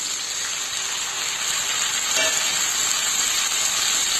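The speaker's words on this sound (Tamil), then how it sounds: "இப்போ நம்ம தக்காளி ஆட் பண்ணிடலாம்." Tomatoes frying in a pan for sambar, a continuous close hiss of sizzling with a faint stir partway through.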